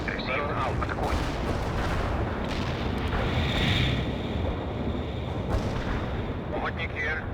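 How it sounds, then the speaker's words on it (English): An artillery strike in World in Conflict lands as a continuous, heavy rumbling barrage of overlapping booms, dense and sustained throughout with no pause. "Artillery strike on the way"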